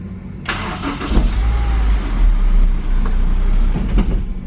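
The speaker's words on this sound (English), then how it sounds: "when you press this button and you hear the engine start" A 2004 Honda S2000 engine cranks on its starter and catches, then settles into a steady low idle rumble, close by and fairly loud.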